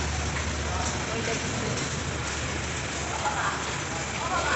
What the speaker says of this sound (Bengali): প্রচুর বৃষ্টি হচ্ছে এই দেখো